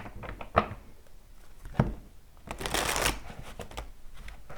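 Tarot cards are shuffled vigorously up close, with quick riffling bursts and a few sharp taps between them, no voices.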